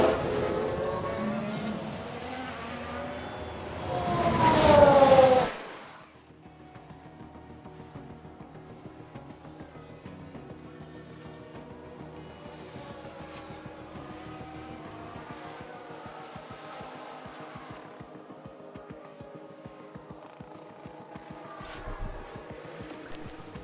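Race cars in the F1 Manager 22 video game, in a 1992 season race, roar loudly in a rising whine for several seconds, then cut abruptly to a faint, distant engine drone for the rest.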